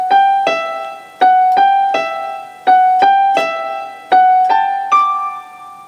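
Piano plays the first bar of the intro to a song, a repeating pattern of clear single notes struck in quick pairs, three times, ending on a higher note, close and solo.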